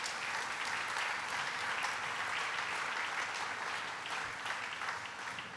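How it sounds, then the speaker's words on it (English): Applause from an audience at a ceremony fills the space, a steady, dense wash of many hands clapping that stays even throughout and eases only slightly near the end. "Let's give her a round of applause."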